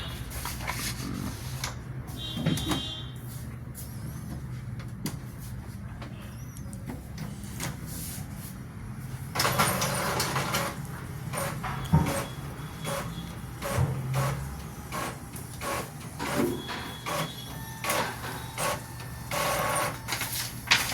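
An HP or Epson inkjet printer, just repaired, feeds and prints a black test page with repeated mechanical whirs, clicks and carriage movements close by, with little talk.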